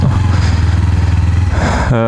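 Kawasaki Z300 motorcycle engine running with a steady low throbbing idle that stays loud and close, then shifts pitch near the end with a brief rising tone.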